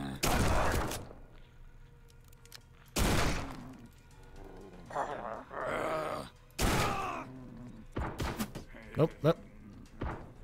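Gunshots from the video game Forgive Me Father 2 come as loud bursts separated by pauses, with groans and other game sounds in between and a person talking.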